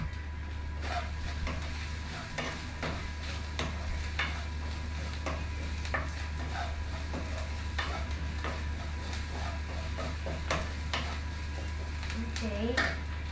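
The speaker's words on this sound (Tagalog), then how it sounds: "Ito yung lagyan natin ng garlic, ang ginigisa natin meat." Meat and garlic sautéing in a pan, a steady soft sizzle with repeated clinks and scrapes of a utensil stirring against the metal throughout.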